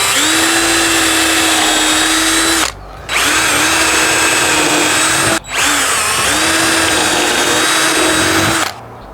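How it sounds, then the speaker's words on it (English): A power drill bores pilot holes into solid wood while mounting outdoor shades, with three long, loud whining runs broken by brief pauses. "So I now have all of my pilot holes drilled"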